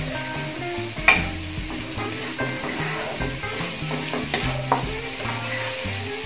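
Stink beans (sator) stir-fried with Thai roasted chili paste, fresh chili and onion make a continuous close sizzle, with a rhythmic scrape and clatter of the spatula in the pan and one sharper knock early on.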